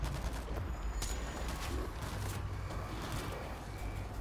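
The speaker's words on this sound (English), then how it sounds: "They're bombing the street." Street bombing and gunfire in the zombie shooter World War Z: a dense, continuous rattle of shots and blasts that stays loud and steady throughout, with no one talking.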